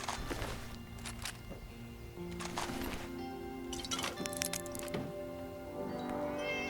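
A cat meows several times in Fallout 76, short separate calls spaced across a few seconds over quiet game ambience, with faint clicks and soft steps between them.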